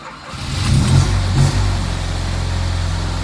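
A Fiat 126p engine runs with the choke on, a steady low rumble that swells briefly twice early on, then settles into an even, continuous idle.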